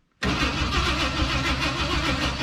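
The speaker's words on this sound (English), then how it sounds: "Hit the old starter key." A 1969 or 1971 Ford F100 truck, abandoned for years, turns over on its starter: after a brief silence a loud, steady mechanical churn begins abruptly and continues without pause.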